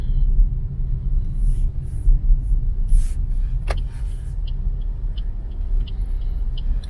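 Road traffic heard from inside a moving car in the Philippines, a steady low rumble of the engine and road with faint passing vehicles and occasional small clicks.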